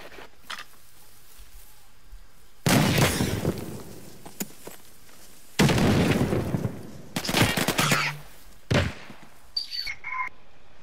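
Gunfire in a first-person shooter, a two-versus-two gunfight on a hill map: several loud bursts of rapid shots separated by short gaps, with a few isolated single shots and faint electronic tones near the end.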